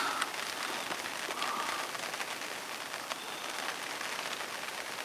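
Rain patters steadily on surfaces beside a fishing lake, making an even, close hiss of drops with a few louder taps now and then and no voices.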